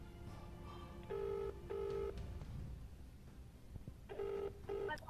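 Faint electronic telephone tones over a phone line as a number is dialed, short buzzing beeps arriving in pairs with a gap between each pair.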